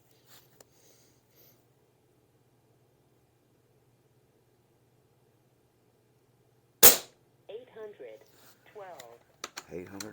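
A single sharp, close crack from an Umarex Gauntlet 2 air rifle breaks near-silence, followed by soft clicks and handling noises, with someone talking around it.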